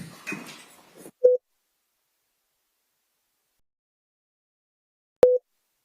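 Two short electronic beeps from a courtroom system signalling that privacy white noise is on, the first just after some brief rustling and murmuring, the second about four seconds later after a click, each clear and alone in silence.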